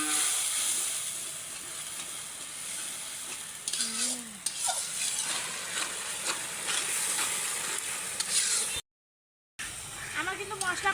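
Spices fried with salt and cinnamon for a vegetable dish cooked for a village picnic give a constant hissing sizzle. Stirring scrapes recur throughout, and the sound cuts out briefly near the end. Some talk is faintly heard.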